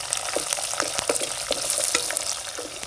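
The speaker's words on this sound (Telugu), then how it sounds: "మూడు రెబ్బల కరివేపాకు నాలుగు పచ్చిమిర్చి అన్నీ వేసి బాగా కలుపుకోవాలి" Curry leaves and green chilies fry in hot oil for okra pulusu, a dense, close crackling sizzle with frequent rhythmic scrapes and taps of stirring.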